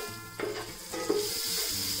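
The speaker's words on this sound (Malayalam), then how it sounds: "ഇനി ഇത് ചൂടായി, ബട്ടറും മെൽറ്റായി കഴിയുമ്പം ഇതിനകത്തോട്ട് സ്വല്പം ഇഞ്ചി വെളുത്തുള്ളി പേസ്റ്റ് ഇട്ട് കൊടുക്കാം" Ginger garlic paste sizzles in hot oil and melted butter in a pan for a Malayalam-style pulav: a steady, close frying hiss, broken by a couple of stirring scrapes, with no talk.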